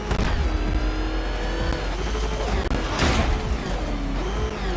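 The Batmobile in Batman Arkham Knight tears along at speed, its engine roaring steadily and rising and falling in pitch, with a brief hiss of tire noise in the middle and no talk over it.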